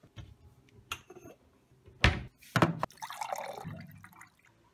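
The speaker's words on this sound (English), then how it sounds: "Drink of water." A person drinks water, with a few close sips and gulps, small liquid splashes and a brief clatter, then a softer wet rustle toward the end, with no talking.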